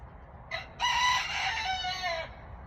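A rooster crows once, loud and fairly close, a harmonic cock-a-doodle-doo lasting under two seconds after a short clucking lead-in, over quiet background.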